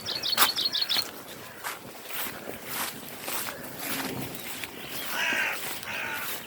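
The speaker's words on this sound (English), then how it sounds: "there's the birds warning that they're coming." Crows caw in a quick, loud burst at the start, then fainter bird calls follow over a hushed outdoor backdrop with distant water or boat noise.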